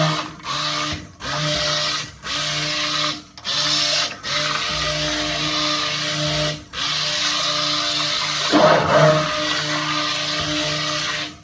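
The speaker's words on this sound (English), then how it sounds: "I'm going to use my immersion blender on low and give that a few pulses" An immersion blender set on low whirs through a bacon grease soap mixture in a series of short pulses with brief stops between them, steady and close.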